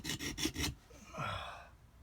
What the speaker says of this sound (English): I'm sanding that off. So it's back to just a flat surface.